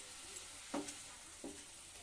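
Small rohu fish slide into a simmering mustard curry with tomatoes, giving two soft splashing sizzles over a quiet bubbling background.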